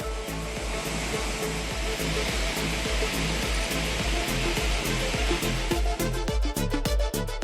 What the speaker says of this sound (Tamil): தண்ணீர் ஆர்ப்பரித்து கொட்டுகிறது